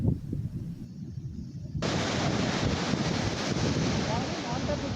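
Storm waves surge and crash along the Uppada beach road near Kakinada during a cyclone, heavy wind buffeting the microphone into a loud, continuous roar that swells after a brief lull.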